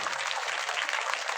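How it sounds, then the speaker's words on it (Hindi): Audience clapping in a hall at a community foundation-day event in Shahbad Dairy, a steady dense patter of many hands, fairly loud and continuous without voices over it. "ताली।"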